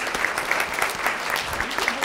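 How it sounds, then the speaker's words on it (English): An audience gives a steady round of applause, many hands clapping in a dense, even roar with a few sharper individual claps standing out, and no talking over it. "please give a round of applause for Dr."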